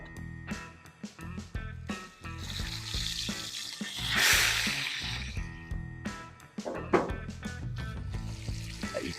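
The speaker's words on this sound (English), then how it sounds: "I'm going to spoon some of this bacon grease over top to make sure that the flavor gets everywhere" Hot bacon grease spooned over a searing wagyu steak in a pan, a steady crackling sizzle broken by repeated clinks of the spoon, swelling into a louder hiss midway, with no talking.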